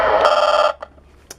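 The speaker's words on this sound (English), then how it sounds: "I've got to turn the alarm on." A weekly EAS test alarm tone on WXJ53 sounds as a loud, steady electronic tone for under a second, then cuts off, leaving faint brief blips.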